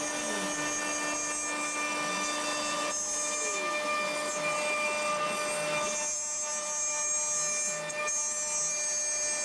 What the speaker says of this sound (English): Here the ShopBot Desktop is cutting out pieces for the design.